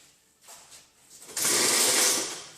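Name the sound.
Dremel rotary tool cutting body kit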